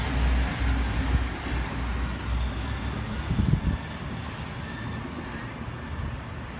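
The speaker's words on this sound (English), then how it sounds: "SP33, the Canberra Explorer, now departing platform number 2." SP33 Canberra Explorer train pulling out of platform 2 at Moss Vale station, a steady rumbling roll of wheels and engine close by, with a brief louder clatter partway through and no voices.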